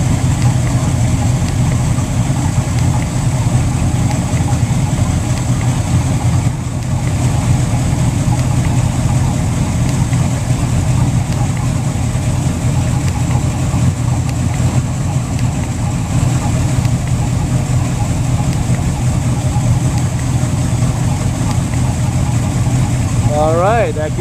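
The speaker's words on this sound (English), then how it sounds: "you're kind of getting a good idea of the sound here at idle." A boat engine idling at the dock, a loud, steady low rumble that continues unchanged throughout with a faint voice under it.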